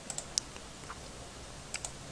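Sparse keystrokes on a computer keyboard: a few quiet clicks near the start, then a gap, then a couple more taps near the end, with no voice present.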